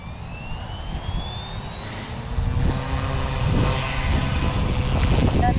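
Full carbon fiber mini RC helicopter, a very fast model, spooling up for a speed pass outdoors: a steady loud motor and rotor whine with rising tonal pitch, growing louder midway and holding strong to the end.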